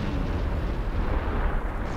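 Explosions in the video game Star Trek Online during a ground mission, a continuous loud rumbling roar of blasts with heavy low-end booms and no clear gaps between them.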